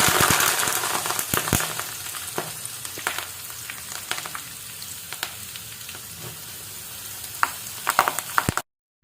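Fresh henna, curry and neem leaves tossed into hot oil for a homemade herbal hair oil, giving a loud, close, continuous sizzle and crackle with scattered pops, then stopping abruptly at the end.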